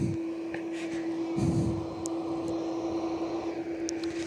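Aircraft at Perth airport, a steady distant engine drone with a strong constant hum, heard from an outdoor viewing deck with no talk.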